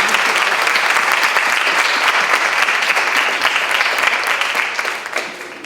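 Steady, dense applause fills a university debate hall as the audience claps for candidates for deputy from Lima, loud and continuous for several seconds before tapering slightly at the end.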